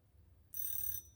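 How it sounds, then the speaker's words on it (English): A kitchen timer goes off with a single half-second electronic beep, bright and clear against a quiet outdoor background. "Oh, that's the timer."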